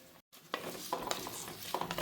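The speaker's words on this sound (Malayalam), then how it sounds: "ഇനി ഒന്ന് നന്നായി വഴന്ന് വരുന്ന വരെ ഒന്ന് ഇളക്കി കൊടുക്കാം കേട്ടോ." Onions with salt sauté in an earthenware pot while a spoon stirs them, giving soft close sizzling and repeated scraping strokes after a short gap at the start.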